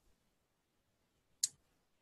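One crisp computer mouse click, close and isolated, sounds midway through near-silence while working in a database program.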